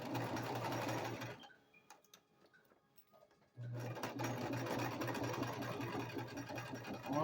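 Domestic sewing machine stitching a quarter-inch seam in fabric and then back stitching, a steady close mechanical whir that stops for a quiet pause of about two seconds before running again at full speed.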